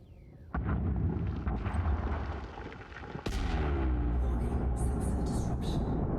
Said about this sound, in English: I'm just gonna set it off. I'll detonate it.